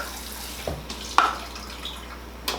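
A little water poured into a warm custard pie egg mixture makes a few faint, brief splashes and drips, with one clearer splash partway through, in a quiet kitchen without speech.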